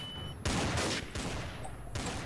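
Loud bursts of rapid gunfire from a shooting video game come in several sustained volleys, separated by short gaps.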